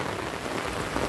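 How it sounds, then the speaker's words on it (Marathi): Heavy rain pours steadily at a villa resort in Neral during a group picnic, a dense, even hiss of drops drumming on surfaces without pause. "तर तुम्ही बघताय पाऊस भरपूरच आहे"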